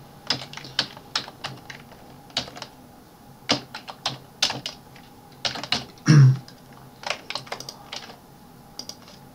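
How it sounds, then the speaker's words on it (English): Someone types on a computer keyboard in irregular clusters of crisp, close key clicks, with one heavier thump partway through and no talk. "So just type it from keyboard."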